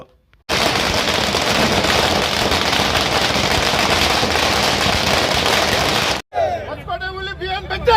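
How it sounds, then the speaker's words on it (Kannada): Firecrackers burst in a dense, continuous crackling barrage at a Congress workers' celebration in Hosakote, loud and close for several seconds, then stop abruptly and voices and shouting follow. "ಕಾಂಗ್ರೆಸ್ ಕಾರ್ಯಕರ್ತರು ಪಟಾಕಿ ಸಿಡಿಸಿ ಸಂಭ್ರಮಾಚರಣೆಯನ್ನು ಮಾಡಿದರು"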